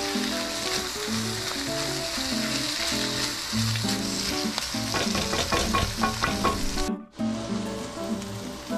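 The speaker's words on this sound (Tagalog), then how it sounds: "Haluin kasama ng corned beef." Corned beef stirred and frying in a pan, a steady close sizzle with repeated scraping stir strokes throughout and a brief drop out near the end before the frying resumes.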